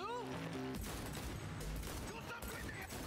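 Rapid bursts of gunfire in the Cyberpunk video game, dense and loud over game music, with a voice talking over the shooting.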